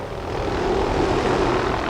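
A helicopter in flight during a rappelling rescue, heard as a loud, steady engine and rotor drone with a constant throbbing hum and no pauses.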